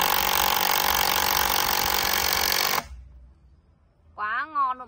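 Kutan 400Nm cordless impact wrench with a two-battery 15-cell pack, running in a loud, steady whirring buzz for nearly three seconds before cutting off abruptly, followed by a short voice.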